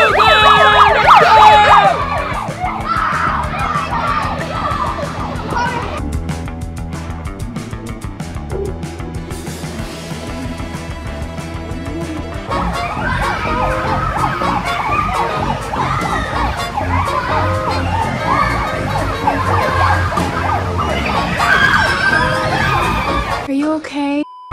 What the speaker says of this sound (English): When the siren goes off, we go wild.